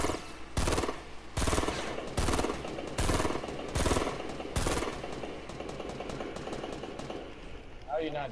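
Loud automatic gunfire in the video game Fortnite comes in about eight regularly spaced bursts, each a short rattling volley. Players talk over the shooting.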